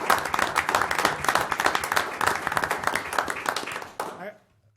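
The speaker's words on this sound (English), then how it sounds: "I think the Rotary Club deserves a round of applause" A council meeting room breaks into a round of applause for the Rotary Club, many hands clapping briskly and steadily for about four seconds before stopping abruptly into silence.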